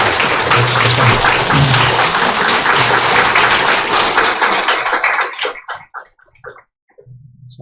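Church congregation applauds a pastor after the sermon, a loud dense burst of clapping from a large crowd that fills the hall for about five seconds, then thins to a few scattered claps and fades out.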